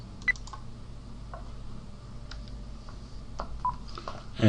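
Telephone keypad tones beep as a PIN is punched in during an automated verification call, a few brief electronic tones spaced out over a quiet background with faint clicks.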